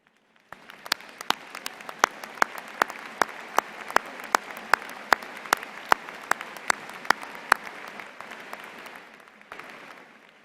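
A commencement crowd at the UMass Lowell 2015 morning ceremony applauds contributing graduates: sustained dense applause with sharp, loud individual claps standing out, filling the hall for about ten seconds before tapering off.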